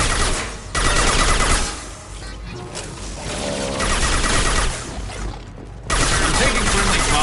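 Dense bursts of automatic gunfire crackle loudly in the video game Mass Effect 2, with sustained volleys broken by short lulls and then resuming, a chaotic firefight at close range.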